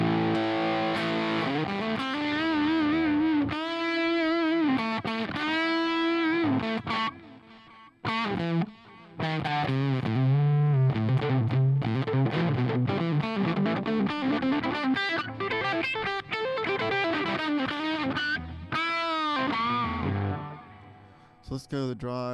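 Electric guitar runs through a Fullerton Jump amp model on a Helix HX Stomp, playing loud, driven melodic lines and bends with a brief pause midway, thick and sustained throughout.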